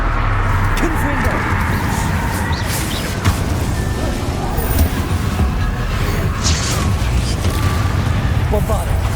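Confringo spells and other combat magic fire during a fight in the PC game Hogwarts Legacy, a dense, continuous roar of blasts and rumbling effects layered with shouted voices throughout.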